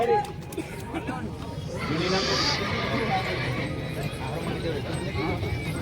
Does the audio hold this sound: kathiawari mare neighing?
yes